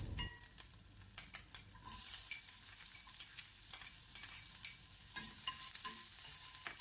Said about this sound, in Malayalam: കുറച്ച് ജീരകം ഇട്ട് നമ്മൾ നേരത്തെ റെഡിയാക്കി വെച്ചിരിക്കുന്ന ഈ സവാളയും പച്ചമുളകും വെളുത്തുള്ളിയും എല്ലാം കൂടി ഇട്ട് നന്നായിട്ടൊന്ന് വഴറ്റിയെടുക്കാം